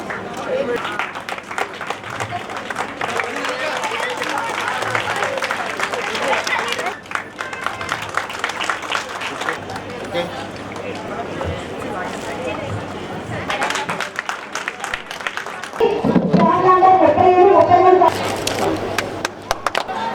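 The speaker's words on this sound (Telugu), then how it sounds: "మీరు అంతా గట్టిగా చప్పట్లు కొట్టాలి" A large audience applauds at a 35th National Road Safety Month event, with broad, steady clapping filling the first several seconds, then a lull with voices and a louder, tonal burst near the end.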